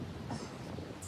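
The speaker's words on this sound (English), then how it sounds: "It's getting windier and windier here" Wind gusting outdoors at a New Zealand women's pairs golf event, a steady broadband roar with soft buffeting surges that stay fairly faint, no talking.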